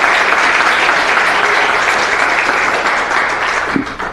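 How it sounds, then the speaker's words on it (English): A city council chamber audience applauds staff for their work, producing loud, sustained clapping from a crowd that holds steady and then thins slightly near the end. "give them a round of applause for the amazing work that you all have done for Santa Ana"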